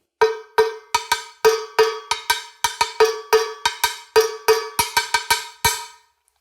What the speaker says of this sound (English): is this bell going to be higher or is it going to be lower?